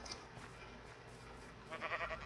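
A sheep in the video game Sheep Quest gives a short, faint bleat near the end, set against a steady low background hum.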